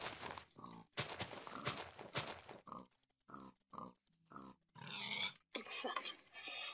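Minecraft pigs give a series of short grunts and oinks in separate bursts with brief gaps, fairly close and clear, and no talking over them.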